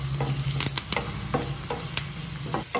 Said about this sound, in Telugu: ఒక రెమ్మ కరివేపాకు వేసుకొని ఫ్రై చేసుకోండి లైట్గా